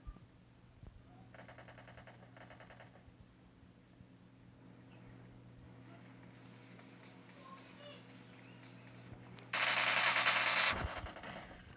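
Bursts of gunfire come from a shooter video game, with a short rattle early on and a louder, dense volley near the end as the player is shot. Quieter game noise fills the stretch in between.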